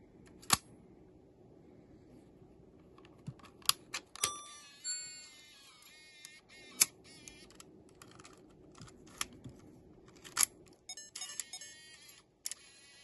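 Small mechanical clicks, whirs and clunks from a Sony Handycam DCR-HC19E camcorder drawing its tape back in, with faint electronic chirps and beeps between quiet irregular taps.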